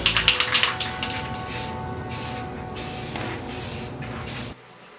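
Rust-Oleum metallic chrome spray paint hisses from the can in a series of short bursts, light dusting passes, each loud and close with brief gaps between sprays, then stops abruptly.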